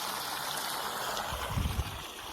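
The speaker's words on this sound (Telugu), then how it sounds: "వాటర్ అయితే చూడండి ఎంత ప్రెషర్గా ఎంత బాగుందో" Steady broadband rush of water gushing under pressure from a borewell pipe, continuous and fairly loud, with a few low gurgling surges near the end.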